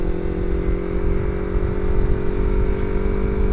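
A Yamaha MT-25 motorcycle fitted with an R9 aftermarket exhaust idles and revs steadily, a loud, close, continuous engine drone with a fast pulsing rumble and no voices.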